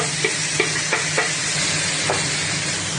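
Tomatoes go into a hot pan and are stir-fried for spicy chicken Bicol Express, giving a steady loud sizzle with a few soft stirring knocks spread through it and no talking.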